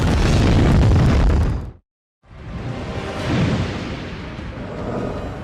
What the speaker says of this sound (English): eruptions in space that turned out to be the greatest explosions in the solar system